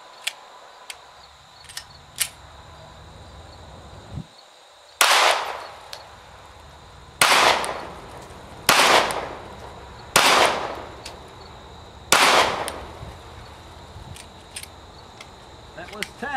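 Glock 43 or 43x pistol fired at a range, five loud sharp shots spaced about every one to two seconds with ringing decay, preceded by faint clicks and handling noises.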